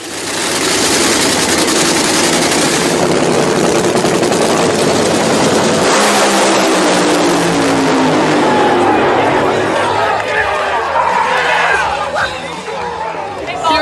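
Roaring race car engine from a Crown Vic race, loud and continuous for the whole stretch over a crowd-like wash, with voices talking above it.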